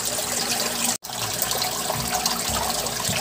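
Water pours into a plastic basin being filled for crayfish, a steady close rush of liquid that runs almost without pause, with one brief cut near the start.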